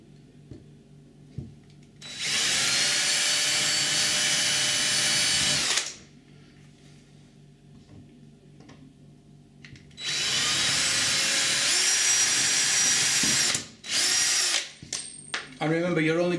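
Two long bursts of a power drill with a 2.5 mm bit whirring loudly up close into a uPVC or composite door, separated by quiet gaps, with a few short spurts and brief talk near the end.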